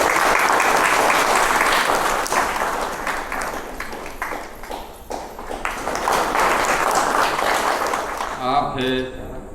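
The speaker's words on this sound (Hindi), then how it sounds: "ताली बजाएंगे।" Wedding guests applaud inside a church in Jharkhand as bride and groom exchange flower garlands, a sustained dense clapping that swells and fades, with a voice and brief musical tones near the end.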